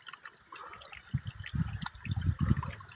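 A pesticide mixture is stirred in water, giving soft, close sloshing and swirling splashes that build into a few louder pulses.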